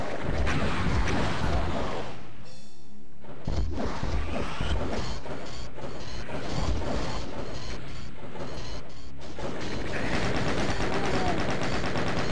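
Rapid chaingun fire from Doom chaingunners in a Doom II BTSX map, dense overlapping bursts with explosions and combat noise, loud and continuous throughout with a short lull near the middle.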